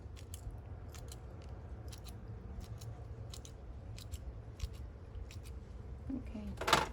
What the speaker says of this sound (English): Trim the roots.